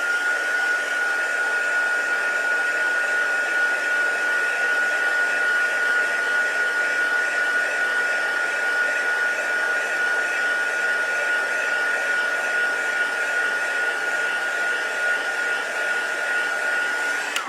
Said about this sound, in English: I'm going to give that a quick dry.